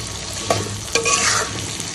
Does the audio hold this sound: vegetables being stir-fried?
yes